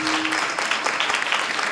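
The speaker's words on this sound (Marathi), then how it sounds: "जोऱ्यात टाळी वाजवा." Applause from an audience at a humorous Marathi kirtan, a dense continuous clapping that stays loud and even throughout.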